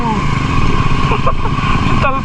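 Motorcycle on a monsoon off-road ride through mud, engine droning loud and steady with rising and falling revs, a voice talking over it.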